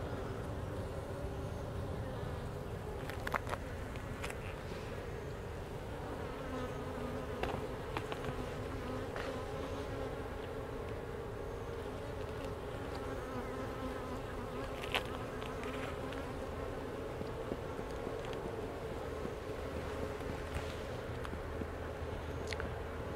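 Honey bees drone steadily inside a queenless hive during an inspection, a dense continuous buzz close to the microphone with no talking, occasional brief clicks over the hum.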